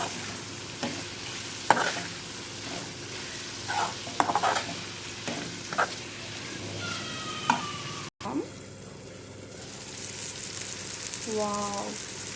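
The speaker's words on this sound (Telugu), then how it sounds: "ఇప్పుడు మంచిగా కలుపుకుందాం," Capsicum curry being stirred in a hot pan, with a steady sizzle and repeated scraping strokes of a spoon or spatula at close range, one short break midway; no one speaks.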